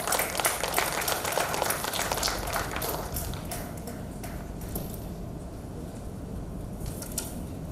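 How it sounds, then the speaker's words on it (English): An audience at an Independence 75th anniversary commemoration event applauds, a loud, dense burst of many hands clapping that gradually thins and softens into scattered claps over several seconds, with no talk. "can we have a huge round of applause once again?"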